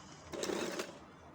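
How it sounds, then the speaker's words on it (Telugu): A sewing machine stitches small frills onto fabric in a short, quiet burst of rapid mechanical whirring that starts and stops within about half a second. "ఇప్పుడు స్టిచ్చింగ్ ప్రాసెస్ చూద్దాము."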